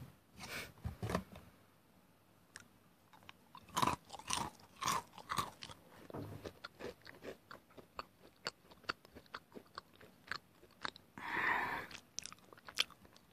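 Close, crisp crunching and chewing of Meiji Chocolate Mushroom Mountain chocolate-topped biscuit snacks, with repeated sharp bites followed by softer, steady mastication at an intimate, quiet level, no talking.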